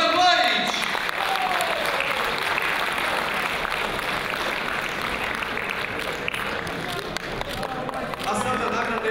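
Sustained audience applause for a first-prize arrangement award at a Serbian song festival, a dense, steady wash of clapping that holds loud throughout with crowd noise blended in.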